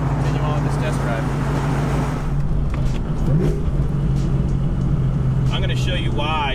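A supercharged Ford Mustang Cobra convertible cruises with the top down on a test drive, its steady engine drone and road rumble running throughout under wind noise, with a few brief higher chirps near the end.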